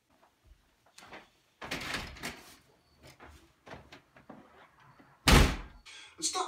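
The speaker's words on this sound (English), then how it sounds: "Stop slamming my goddamn door!" A door slams hard once near the end, a loud close thud, preceded by scattered knocks and bumps and brief voices in a music video scene.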